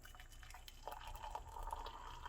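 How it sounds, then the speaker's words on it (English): Water pouring onto a tea pouch in a cup, a soft steady trickle and splash with faint rising pitch as it fills, close and quiet, no talking. "In goes the water."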